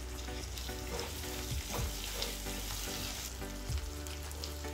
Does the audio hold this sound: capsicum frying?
yes